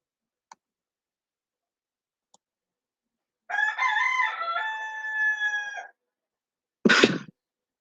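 A rooster crows once, loud and close, a drawn-out harmonic call of about two seconds, preceded by a couple of faint clicks and followed by a sharp, brief noise burst.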